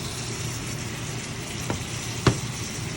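Butter melting and sizzling in a hot pan beside a sous vide steak, a steady close frying hiss with two brief clicks of a utensil against the pan.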